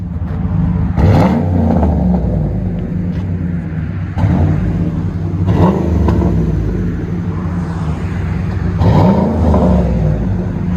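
A deep, rumbling Chevy Silverado 6.2L V8 exhaust revs three times in bursts, each rev swelling and falling back to a heavy idle; loud and close outdoors.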